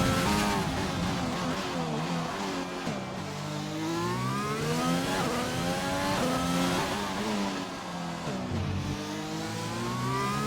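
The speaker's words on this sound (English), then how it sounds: "Ride on board with SF1 Bravo as he's near the end of sector 2 of his outlap" A GP2 race car's engine on board during an outlap at the United States Grand Prix, loud and close, revving hard through repeated upshifts and downshifts with rising and falling whine, no talk over it.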